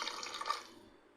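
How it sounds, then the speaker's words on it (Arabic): Water poured into a thick chicken marinade in a bowl, a brief soft liquid splash and trickle fading out over about a second, close and quiet with no talking. "التتبيلة قليظة بنزيدها شوية ماء."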